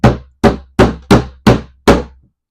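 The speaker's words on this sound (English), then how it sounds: "then I'm going to do a test whack here with the hammer" Six evenly spaced hammer whacks on a mid-century modern dresser being repaired, each a sharp, loud, close wooden knock with a short decaying thud.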